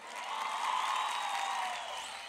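A concert audience applauds and cheers at a stage show, a soft, distant wash of clapping and crowd noise that swells and then tapers off.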